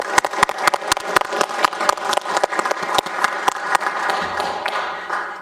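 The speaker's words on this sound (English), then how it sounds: "Can you please give them a round of applause?" A round of applause at a city council meeting, with dense clapping and sharp individual claps that carry on steadily for several seconds before tapering off.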